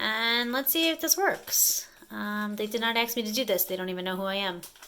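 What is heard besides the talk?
No everyday noise stands out behind the speech.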